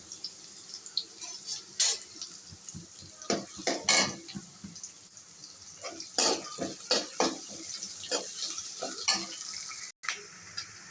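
Onions are stirred in a frying pan, with a spatula clinking and scraping against the metal in irregular strokes over a low, continuous sizzle, close by and with no speech.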